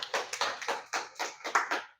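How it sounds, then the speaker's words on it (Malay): A small group claps for the speaker's partner at an informal Malaysian business talk. About eight distinct, evenly spaced claps sound close and fairly quiet before stopping. "saya rasa macam beri dia tepukan"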